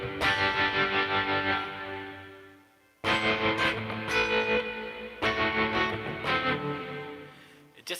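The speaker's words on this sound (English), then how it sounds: "This is like again called the citrus reverb." An electric guitar plays through a citrus reverb effect in a live session, with strummed chords ringing out under a heavy, washy tail. Three phrases each fade into a lingering decay.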